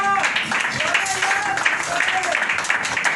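Church congregation clapping for the Lord during a sermon, a broad continuous patter of many hands with faint voices mixed in beneath.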